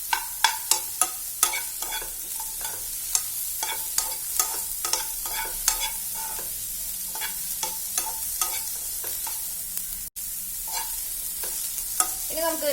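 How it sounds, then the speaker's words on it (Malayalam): Cut zucchini sautéing in a hot pan, with steady sizzling and frequent sharp clicks of a utensil scraping and stirring, close and continuous, with no talking. "ഇതിനകത്തേക്ക് നമ്മൾ കട്ട് ചെയ്ത് വെച്ചിരിക്കുന്ന സുക്കിനി ചേർത്ത് കൊടുക്കാം. അതൊന്ന് ജസ്റ്റ് ഒന്ന് സോട്ട് ചെയ്തെടുക്കാം"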